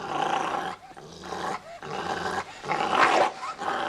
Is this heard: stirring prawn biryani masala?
no